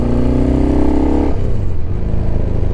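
A 1975 Yamaha XS650 motorcycle with carburetors out of sync, its engine revved loud and close by a twist of the throttle, rising and then falling away toward a lumpy idle.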